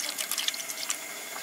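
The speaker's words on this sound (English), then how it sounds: "So now we're just gonna steam them with a little water" Water and beer pour into a pot for steaming mussels, a light splashing trickle with small drips and bubbling, close and fairly quiet.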